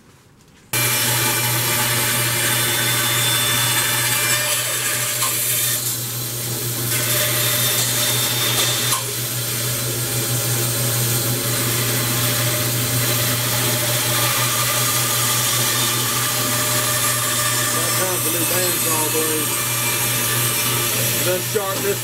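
A bandsaw starts up and cuts steadily through a wooden blank for a woodturning jam chuck, a loud continuous hum with a rasping blade tone that varies slightly as the cut progresses, running nearly the whole time.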